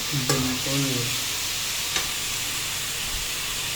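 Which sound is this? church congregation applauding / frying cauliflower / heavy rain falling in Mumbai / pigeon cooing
frying cauliflower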